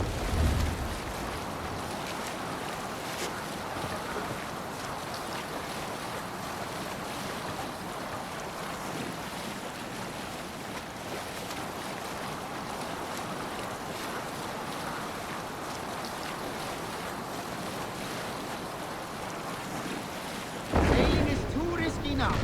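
A sailing ship moving through wind and waves in Assassin's Creed Valhalla, a steady broad rush of wind and sea water that holds evenly, with a sharper splash near the end.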